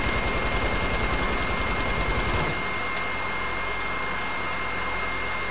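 Rapid, dense automatic gunfire from a default gun in Fortnite, a sustained loud burst of shots for about two and a half seconds that cuts off abruptly, leaving a quieter lingering hiss.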